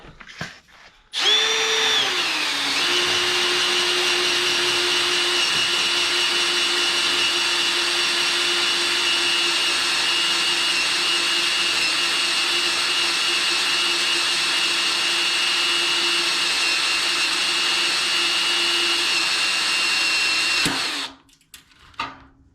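A spot weld cutter bores through a car's core support, the drill spinning up sharply, then holding a steady, loud, high whine for about twenty seconds before winding down and stopping.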